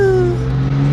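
Loud, close engine and intake sound from an LCI BMW X3M with a custom E85 tune, revving as a strong, sustained droning tone that dips slightly in pitch, with no talking.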